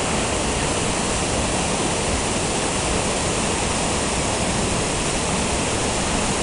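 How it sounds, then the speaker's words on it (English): Trafalgar Falls in Dominica thunders as a loud, unbroken roar of falling water, a dense steady rush close by that fills the whole moment without any voices. "Here's the other falls up this way, coming down, just beautiful."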